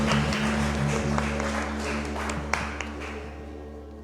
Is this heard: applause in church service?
yes